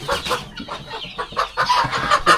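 Several chickens cluck nearby in quick, uneven bursts, overlapping one another with short squawky notes.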